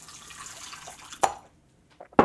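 Very hot water goes into a mixing bowl in a small splashy pour with dripping, followed by two sharp separate plops and a couple of faint drips in a quiet kitchen.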